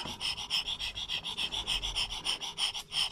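Carburetor pump on a Fendt Favorit 818 tractor with a four-stroke engine, drawing air in a steady rhythmic breathing or rasping pattern of about a dozen even pulses, close and fairly loud, with no talk.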